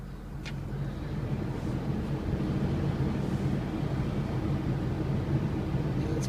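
Air conditioning fan in a 2007 Ford F350 diesel 4x4 cabin, blowing with a steady, broad whoosh that holds even throughout, with faint brief clicks near the start.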